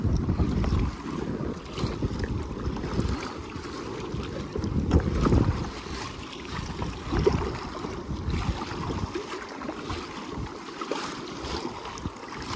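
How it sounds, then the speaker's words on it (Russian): Wind buffets the microphone over sloshing waves on choppy open sea near Sevastopol, heard from a kayak, with gusty rumbling swells rising and falling continuously and no voices. "Ребята, поднялась волна."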